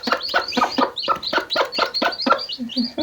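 Domestic hens cluck in a steady run of close, loud, repeated calls, with a few softer clucks near the end and no talking.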